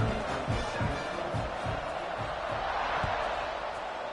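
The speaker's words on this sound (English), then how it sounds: "this crowd is feeling themselves after that last drive" A football stadium crowd cheers during a college game between Stanford and SMU, producing a dense, continuous roar that stays steady and fairly loud throughout.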